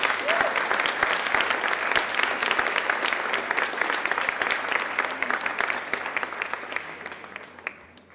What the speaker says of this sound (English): And we applaud them for their participation.